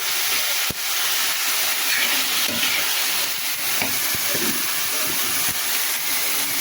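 Bay leaves frying in hot oil, a steady broadband hiss and sizzle running throughout at close range with faint occasional clicks.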